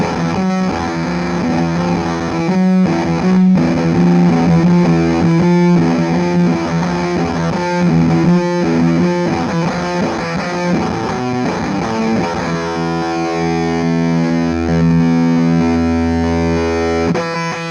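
An electric guitar plays through an EarthQuaker Devices Gary modulation fuzz and overdrive pedal, producing loud, thick, saturated fuzz with wobbling modulation across choppy riffs that settle into sustained, ringing notes near the end.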